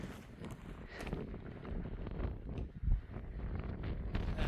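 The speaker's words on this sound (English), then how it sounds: "the wind very rarely dies down" Strong wind gusts across an exposed ridge on Franconia Ridge along the Appalachian Trail, buffeting the microphone with a loud, rough, continuous rumble that swells and dips without letting up.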